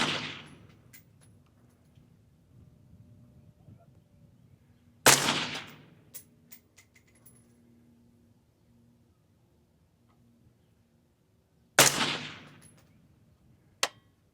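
Three sharp gunshots fired at targets on an outdoor range, spaced several seconds apart, each a loud crack with a short decaying echo over quiet background.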